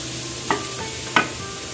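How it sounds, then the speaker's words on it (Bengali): Stirring in a wok of small river fish, bori lentil dumplings and tamarind during a Bengali tamarind fish curry, with two distinct scraping clinks over a soft, steady background hiss. "চুনো মাছ, বড়ি, তেঁতুল সব দিয়ে দিচ্ছি কড়াই।"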